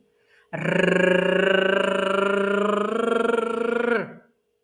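Children hum together in a loud, steady, droning tone for about three and a half seconds, imitating a rocket engine.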